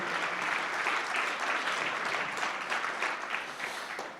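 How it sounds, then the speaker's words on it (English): Warm, even applause from a breakfast-event audience honouring health leaders, a dense wash of many hands clapping steadily at moderate volume throughout, tapering slightly at the end. "Let's give a round of applause for all of our health leaders in the room today."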